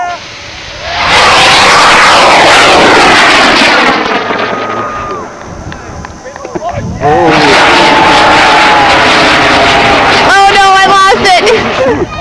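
A rocket launch roars loudly from about one second on, a dense rumbling blast that holds and then swells again, with excited voices and chatter over it throughout.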